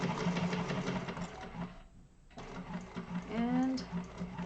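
A sewing machine stitches a seam through a bag with heavy stabilizer, giving a quiet, steady mechanical whirring that stops briefly midway and then resumes.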